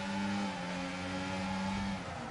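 Race cars on intermediate and full wet-weather tyres at Zandvoort, one overtaking another, a steady sustained engine drone, near and fairly loud, with a slight pitch shift as it passes.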